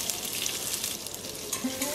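Onion sizzles in hot oil with whole spices and garlic for a Bihari-style mutton curry in a pressure cooker, a soft continuous frying crackle with light stirring scrapes over a short stretch.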